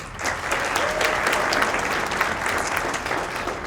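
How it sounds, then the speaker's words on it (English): A large audience at a Kentucky civic forum applauds award winners, producing a loud, dense, continuous roar of clapping that holds steady for several seconds. "another round of applause for all those great award winners"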